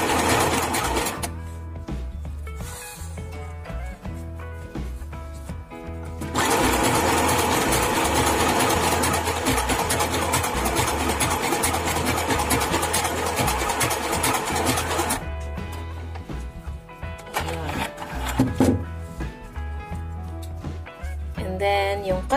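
A sewing machine stitches with an overcast overedge foot, running in stop-and-start stretches with a long continuous burst in the middle, close and steady, with no talking.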